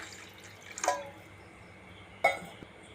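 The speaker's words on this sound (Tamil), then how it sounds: "தண்ணி கொஞ்சம் ஊற்றிக்குங்க." Water is poured into a pan while making a Tamil-style modavattu kaal (goat leg) soup, heard as two brief splashy pours about a second apart over quiet kitchen background.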